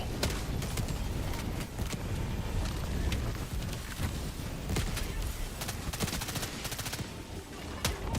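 In a video game, rocket pods fire in a long stream of rapid, punchy launches, crackling and booming in clusters over busy battle noise, with occasional faint voices in the mix.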